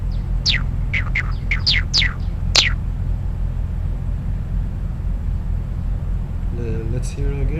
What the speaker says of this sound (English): let's take a look at the generated bird song, which is composed in this project